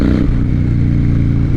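Harley-Davidson Dyna motorcycle engine rumbling steadily while cruising, a deep loud throb with a pulsing low-end beat and no break.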